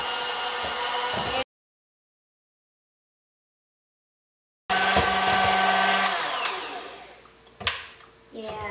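An electric mixer whipping a mixture to stiff peaks in a bowl gives a loud, steady whirring buzz that cuts out for a few seconds, then resumes and winds down unevenly with scraping knocks at the end.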